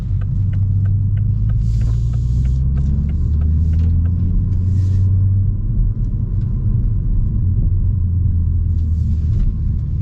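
A Toyota GR Supra with a manual gearbox drives along, its engine a loud, steady low rumble heard from inside the cabin, with drone tones rising and settling as revs shift and occasional clicks overhead.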